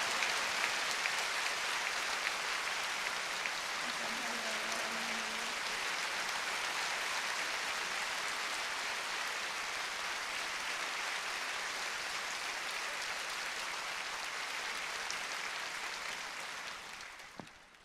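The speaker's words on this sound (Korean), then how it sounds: "다시 한번 힘차게 우리 박수로 환영하겠습니다." A congregation at a church world mission conference applauds for about eighteen seconds, a dense, steady clatter of many hands that holds level and then fades out at the end.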